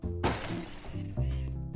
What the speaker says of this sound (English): The plate is smashed.